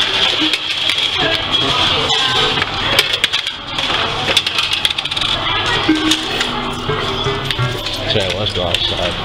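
Coins drop and clatter repeatedly in an arcade machine amid a busy, noisy amusement arcade with ringing machine sounds, while people talk nearby.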